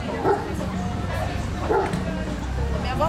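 A small dog at an outdoor shelter adoption fair gives a few short yips and whimpers, close by, amid steady crowd chatter and people talking nearby.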